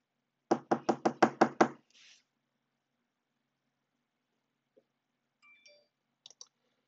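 Six quick, sharp knocks on a desk imitate someone knocking at a door, crisp and close in an even rhythm, then a faint scrape and a few soft clicks in an otherwise quiet room.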